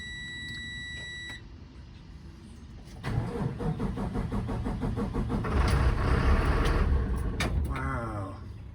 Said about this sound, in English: we need to do a few cranks